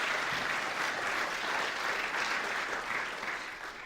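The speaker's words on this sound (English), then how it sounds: "So, round of applause, please." An audience applauds a panel at the close of a discussion, with steady, dense clapping that holds evenly throughout and tapers slightly at the end.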